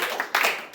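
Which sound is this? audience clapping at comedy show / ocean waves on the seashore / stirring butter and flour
audience clapping at comedy show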